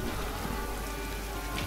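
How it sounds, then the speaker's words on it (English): A dense hiss of heavy rain fills a short scene from a Walking Dead episode, steady and loud with no voices. "Oh crap, I didn't think about the rain."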